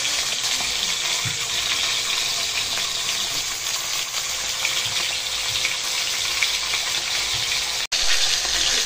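Pork chops fry in hot oil in a new pan, a steady, dense sizzle and crackle that holds close and loud throughout, with a brief clatter near the end.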